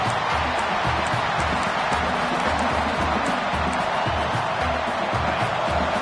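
A big stadium crowd in a college football video game roars steadily as a broad, continuous wash of cheering, with a low rhythmic thump running underneath.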